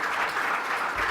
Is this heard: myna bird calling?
no